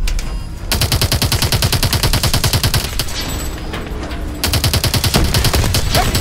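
Sustained automatic gunfire in an immersive, realistic war shooter game, with rapid machine-gun bursts hammering almost without pause. A brief lull near the start gives way to dense, loud volleys from close range.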